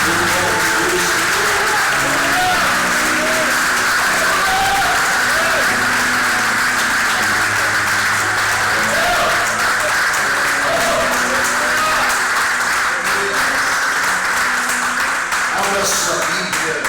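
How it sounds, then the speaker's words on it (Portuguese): A church congregation applauding during a service, a loud, dense and sustained wave of clapping lasting many seconds, with voices and occasional exclamations mixed in beneath it. "Você pode aplaudir Deus, em nome do Senhor."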